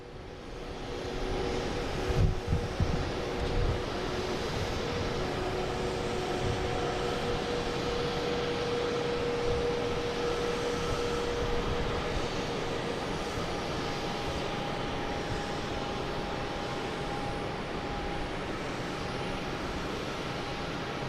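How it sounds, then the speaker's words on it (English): A WestJet airliner arriving at Boston Logan from Calgary, a steady loud engine roar with a faint tonal whine that holds evenly throughout after a brief swell near the start. "Here we have WestJet coming in from Calgary."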